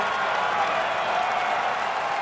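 A baseball crowd at a Yankees–White Sox game rising and cheering in the ninth inning, a steady, loud roar of voices and applause throughout.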